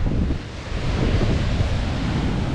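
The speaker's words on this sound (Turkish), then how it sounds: "Fena rüzgarlı." Strong wind roars steadily against the microphone at Aksaz, Çanakkale, a dense continuous rush with a faint surf-like wash underneath and no voices.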